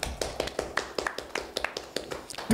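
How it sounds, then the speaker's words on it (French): A small group clapping during a tacos tasting session in Dakar, with irregular distinct claps at close range spread over a couple of seconds, fairly soft, ending in a brief low bump. "si vous voulez, applaudissez"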